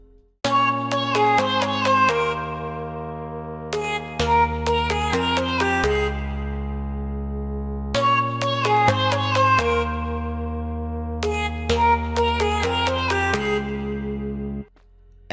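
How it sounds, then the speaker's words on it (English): An electronic dance track with layered synth chords, a bright lead and chopped vocal samples, playing loud and continuous in repeating phrases, with no one talking. "And the chords, lead sound and vocal chops all together sound like this."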